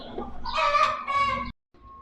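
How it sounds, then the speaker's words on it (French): A rooster crows loudly nearby amid soft clucking of laying hens, then a short silence before faint sounds resume; the birds include silkie roosters. "Donc j'ai 10 poules pondeuses. Après j'ai 2 coqs nègres de soie là"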